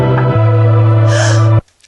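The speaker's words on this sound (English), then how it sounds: "Okay, so I added a gasp" A sharp breathy gasp rides over sustained loud synth tones and bass in a music track, then everything cuts off abruptly into near silence.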